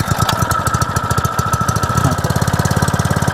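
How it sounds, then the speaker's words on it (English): A Honda de-watering pump's small engine chugs after a pull-cord start, running loud and close in a steady, fast rhythm of firing pulses that quickens slightly toward the end. "You pull the pull cord in order to start it."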